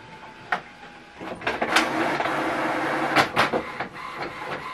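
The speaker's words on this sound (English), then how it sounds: "So right now it's printing out." HP Envy 4527 inkjet printer printing a page: irregular mechanical whirs, clicks and clunks of paper feeding and the print head moving, close and fairly loud.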